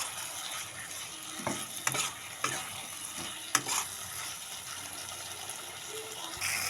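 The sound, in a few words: fried potatoes being sautéed and stirred in masala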